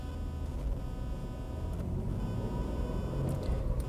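A manual Isuzu Rodeo truck drives along, its engine and road noise forming a steady low rumble heard from inside the cabin.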